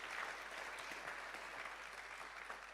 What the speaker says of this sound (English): Let's give all the ambassadors in the room a big round of applause.